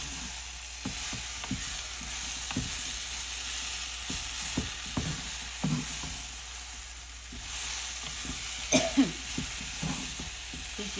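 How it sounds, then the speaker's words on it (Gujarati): Sweet potato khichdi is stirred in a pan over a soft background sizzle, with a series of irregular spoon scrapes and taps, close and moderately quiet. "હવે એકવાર હલાવી દઈશું."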